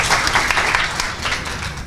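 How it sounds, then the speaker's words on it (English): An audience gives a short burst of applause for presenters at a live event, dense clapping that holds for a couple of seconds and then tapers slightly. "Can we give them a nice round of applause one more time, please?"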